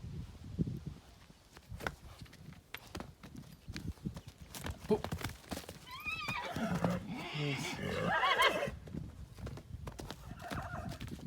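A Belgian draft mare neighs loudly midway amid scattered hoof clops and rustling, with quieter whinnying toward the end.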